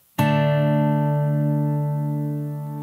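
A single strummed power chord on guitar, fretted at G2, D2 and A0, struck once and left to ring out with a slow, sustained decay, close and alone.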